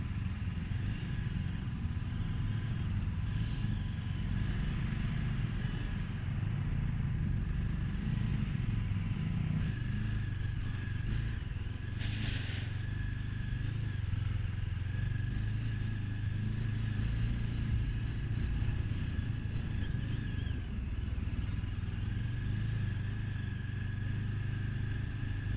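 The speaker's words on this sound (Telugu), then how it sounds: "మొత్తం ట్రాఫిక్ జామ్ అయింది ఇక్కడ." Motorcycles and cars sit in a traffic jam on the mountain road from Srinagar to Kargil. A steady low engine rumble and idling drone last throughout, with a brief sharp hiss or horn-like burst midway.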